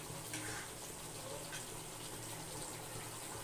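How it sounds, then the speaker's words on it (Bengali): Spice-rinse water is poured into a pot of chicken biryani in a home kitchen, a soft, steady trickling splash that runs quietly and continuously for a few seconds. "আমি এবার এই মশলা ধোয়া জলটা এখানে একটু দিয়ে দিলাম"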